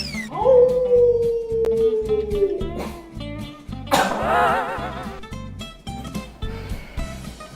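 A voice imitates a tiger over a steady rhythmic backing beat. He opens with a long, drawn-out howling tone that slowly falls, then breaks into a rougher, wavering growl midway through, all close and fairly loud.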